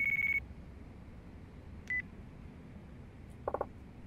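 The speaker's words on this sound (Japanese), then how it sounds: "お電話です。" Incoming phone call ringing in the video game Yakuza 4: three short, separate electronic tone bursts, the last a quick double chirp, over a low steady hum with no talking.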